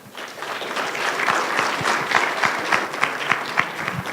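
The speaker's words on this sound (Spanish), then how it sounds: "Démosle un fuerte aplauso." A conference audience gives a strong round of applause for a speaker at an academic humanities forum, a dense, lively wash of many hands clapping that swells and holds for several seconds with no talk over it.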